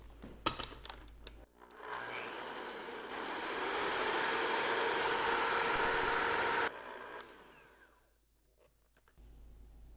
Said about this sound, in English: You need to beat the egg whites until they're stiff, and I just use a hand mixer